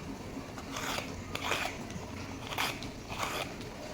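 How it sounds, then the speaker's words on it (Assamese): A vegetable peeler scrapes the skin off a ridge gourd in the kitchen in four or five short, close, rasping strokes with brief pauses between them. "এইডালৰ সহায়তে জিকাখিনি চেলাই ল'ম।"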